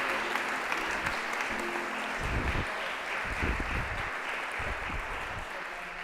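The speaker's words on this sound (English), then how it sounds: "Let's give them a round of applause." A congregation at a church service claps in a steady round of applause, moderately distant, with some voices mixed in throughout.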